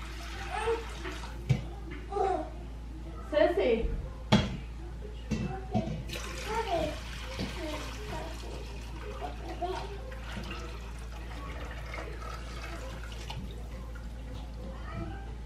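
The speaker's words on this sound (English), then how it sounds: "I'm gonna pour this back into the pot" Strained chicken broth is poured back into a pot in a kitchen, giving soft splashing and trickling liquid sounds with a few clinks and knocks over a low steady hum.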